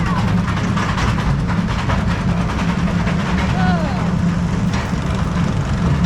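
The Wildcat, a wooden roller coaster relocated between parks, climbs its lift hill with a steady loud rumble and clatter heard from on board, and a rider talks over the noise.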